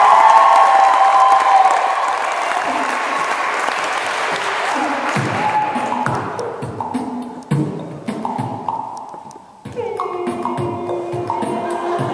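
Enthusiastic audience applause and cheering greet an a cappella group, a dense burst of clapping that thins out over several seconds as the group's singing begins.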